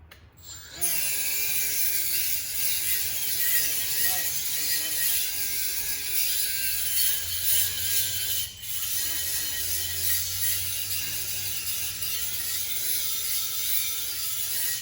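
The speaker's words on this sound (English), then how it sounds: "Trying to find my Milwaukee right angle grinder here." A Milwaukee right-angle grinder runs steadily and loudly for the full length, a continuous high mechanical whine with a brief dip midway, close to the listener.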